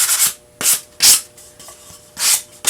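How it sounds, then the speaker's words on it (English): Hand sanding soot off the burnt edge of a wooden pumpkin, several loud, close rasping strokes in an uneven back-and-forth rhythm with brief pauses between. "So I'm just going to take and sand that off really quick."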